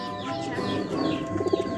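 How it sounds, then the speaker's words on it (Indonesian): Pigeons coo in a backyard garden loft, a low, throaty, steady murmur with a few louder rolling coos near the end, close by and with no talk over it. "ada yang merpati baru lagi nggak Rel?"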